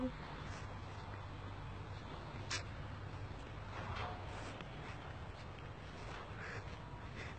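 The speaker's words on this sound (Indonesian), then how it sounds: "oh burung-burungnya apik yuk" Crows caw repeatedly at a distance, with scattered calls from other birds over an outdoor street background in Tamsui, Taiwan.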